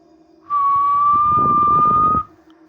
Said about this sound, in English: Then the whistle returned